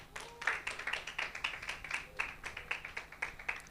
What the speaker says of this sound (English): A round of applause for Sophie.